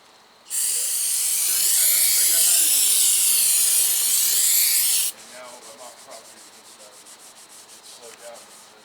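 Steady, loud abrasive scrubbing scours the anti-rust coating off the surface of a new clutch flywheel for a 2007 Toyota Tacoma 2.7 five-speed manual, running for several seconds before dropping to quieter, choppy rubbing strokes.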